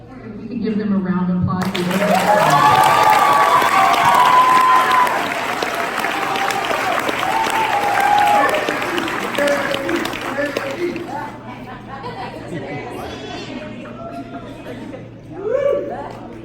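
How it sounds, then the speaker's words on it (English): A middle school graduation audience at Challenger MS breaks into sustained applause, loud mixed clapping with scattered cheers and chatter that rises quickly, holds for several seconds, then thins out, with a voice talking near the end. "We can give them a round of applause."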